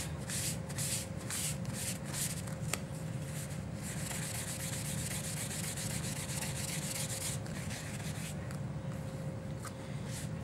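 A tissue rubs excess ink off stamped shimmer-painted paper in close, steady scrubbing strokes, a soft continuous rasping with rhythmic pulses, heard alone without talk.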